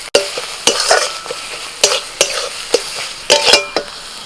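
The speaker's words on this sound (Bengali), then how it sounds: "বাঁধাকপিটা এইভাবে অনবরত নাড়াচাড়া করতে হবে" Cabbage stirred continuously in a pan for an Indian village recipe, with repeated sharp scraping strokes of a spatula against the metal at an uneven rhythm over a soft sizzle, close and fairly loud.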